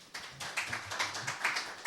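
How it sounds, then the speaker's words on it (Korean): An audience at a SketchUp conference session gives a short round of applause, a quick patter of light claps that sounds fairly distant and soft. "큰 박수 부탁드립니다."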